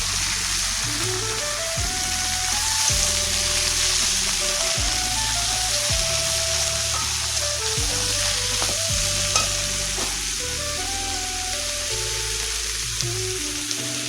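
Chopped red amaranth greens and green chilli fry in hot oil, giving a loud, continuous sizzle close by. Repeated stirring scrapes and knocks run through it at irregular intervals, with no talking.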